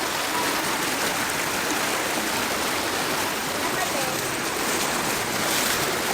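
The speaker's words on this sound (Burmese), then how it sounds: "ဗီဒီယိုထဲမှာသူ့ရဲ့ရေစီးတန်ကိုနားထောင်ကြည့်လိုက်အဲ့လောက်ထိရေစီးတဲ့" Fast-flowing floodwater in Chiang Mai rushes with a dense, steady roar that holds at a constant loudness throughout, close by and with no break.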